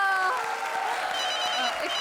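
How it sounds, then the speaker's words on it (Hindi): A brief burst of applause from a small group on a comedy show set, with a steady tone sounding underneath. "तालियां।"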